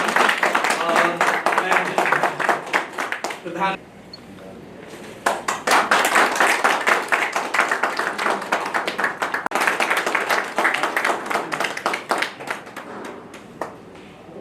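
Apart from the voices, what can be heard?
audience clapping at felicitation ceremony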